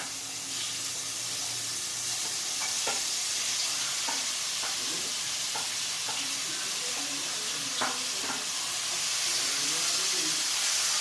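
Anchovies frying in a pan for a spicy chilli-powder fish fry, giving a steady close sizzle and hiss throughout with a few sharp crackles and spatters.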